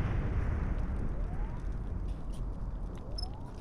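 A muffled, rumbling torpedo-hit explosion in the video game Star Trek Bridge Crew, already loud at the start and slowly fading into a faint, distant roar.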